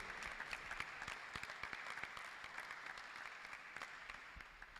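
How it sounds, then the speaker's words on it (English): An audience at a U.S. Presidential Advisory Council event in Nigeria applauds for David Adeleke, a steady wash of many hands clapping, fairly quiet and distant, with scattered sharper claps through the crowd. "a round of applause for David Adeleke"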